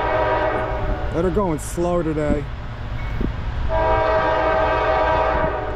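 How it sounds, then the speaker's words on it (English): Norfolk Southern freight train horn sounding loud and close at a crossing in Piscataway, New Jersey, with a stacked harmonic blast in the middle and a longer held note near the end, mixed with train rumble and someone talking over it. "Come on, give me a horn show."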